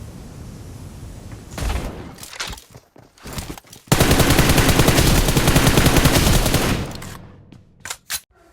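Bursts of automatic gunfire in BGMI, the battle royale mobile game: scattered shots early, then a long sustained loud volley of several seconds, followed by a few isolated final shots.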